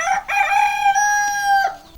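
A rooster crows once, close and loud, a long sustained cock-a-doodle-doo lasting most of two seconds at dawn during a traditional festival celebration.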